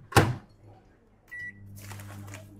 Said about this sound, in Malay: Masuk dalam microwave je.